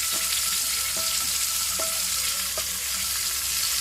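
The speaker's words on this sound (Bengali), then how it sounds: "আলুগুলো ভেজে নিতে হবে।" Potatoes fry in hot oil in a wok over medium heat, giving a loud, steady, close sizzle broken by a few evenly spaced stirring taps, with no talking.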